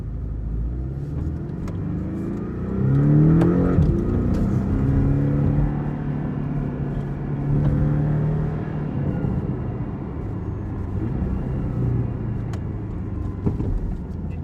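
Porsche 718 Cayman on a test drive after lowering springs were fitted, a low engine rumble that swells as it accelerates and then settles into a steady cruising drone, with no speech.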